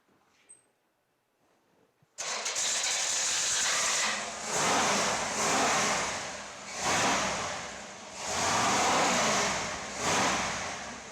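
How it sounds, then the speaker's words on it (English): A 1959-60 Chevrolet Impala engine cranks and catches after a brief quiet, then runs steadily and loud at close range with a rhythmic, surging roar that swells and eases every couple of seconds. "make sure we're out of gear and give it a start there, Mike."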